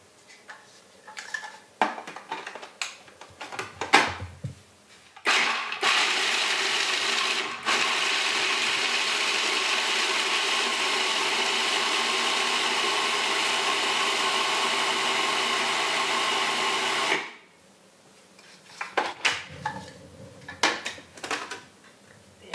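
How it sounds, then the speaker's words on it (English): A kitchen blender grinds nuts for a raw banana bread, running as a loud, steady whir for about twelve seconds. Soft clinks and handling noises of kitchenware come before and after it. "Now we're going to blend up the nuts."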